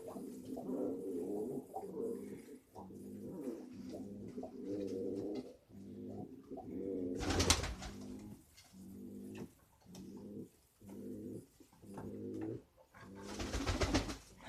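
A pigeon or dove coos repeatedly from its nest in a steady rhythmic series of deep, throaty phrases, close and clear, with a couple of louder rustling bursts in between.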